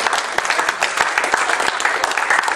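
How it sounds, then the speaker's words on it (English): An audience at a philosophy conference keynote applauds, with sustained dense clapping and a few sharper individual claps standing out, steady and fairly close throughout. "You clap now."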